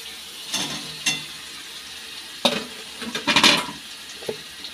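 Paneer tipped into a pan of browned, sizzling spice paste and stirred, giving a few short scraping and sizzling bursts over a quiet background, with no talking.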